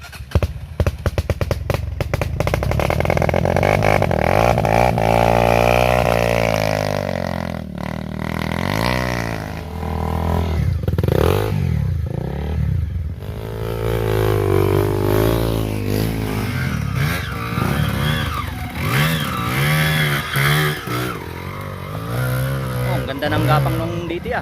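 A dirt bike engine on a muddy Mt. Paldingan trail is revved hard at full throttle, a loud, sustained drone with rising and falling pitch sweeps, and people talk over it throughout.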